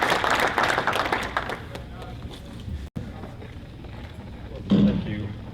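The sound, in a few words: audience applause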